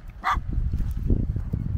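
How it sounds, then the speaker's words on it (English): A small dog in a village of the Aeta people in the Philippines gives one sharp, close yip-bark, followed by low grumbling and shuffling sounds nearby, with no clear speech. "I wonder who the dog's coming for. Is the dog coming for me?"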